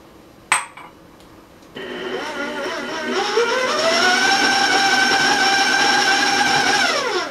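Electric mixer running steadily at high speed as it creams butter, sugar and vanilla into a thin crispy coconut cookie dough, a brief clatter at the start and then a rising whine that stays loud and continuous to the end.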